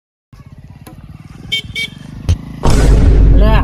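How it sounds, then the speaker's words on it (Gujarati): A motorcycle pulls up and arrives, its engine rising from a low idle-like putter to a loud, close roar near the end, with brief horn-like tones in between. "બાઈક લઈને આવી ગયા લાગે."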